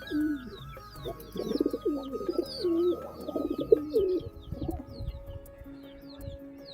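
Pigeons cooing near a loft, a female and male among them, with repeated throaty rolling coos close by over the first few seconds, then fading, while other birds chirp faintly in the background.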